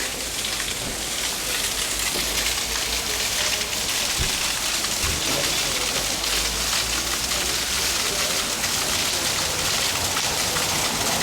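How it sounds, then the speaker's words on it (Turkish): Continuous rain hisses steadily on surfaces nearby at Ulupınar, a dense, even wash of sound with a couple of faint knocks, no voices. "Tabii şu anda yağmur yağdığı için"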